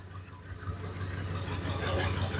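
A 2008 Ford F-150 engine idles steadily at close range, a constant low rumble with a faint rattle from the belt and pulleys, no talk over it.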